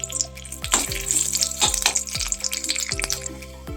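Dates being stirred in hot melted ghee in a kadai, a soft, steady sizzle of frying broken by regular scraping strokes of a spoon against the pan, close and fairly quiet.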